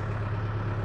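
A tractor engine idles at a steady low hum with a constant tonal drone, fairly faint, while the tractor's transmission-driven lever dumps river sand.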